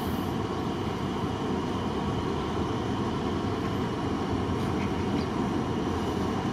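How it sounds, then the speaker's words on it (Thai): Diesel train locomotive at the Bang Sue rail yard throttles up and pulls away, a steady heavy engine drone with deep rumble and a constant high whine, continuous and close, no talking. "ตองเจ็ดออกมาแล้วนะครับเร่งเครื่องแล้ว"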